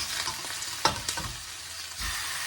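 Beef and tomato fry in a pan with a steady bright sizzle, broken by a few scraping stirs and clinks of a utensil, close and alone without talk.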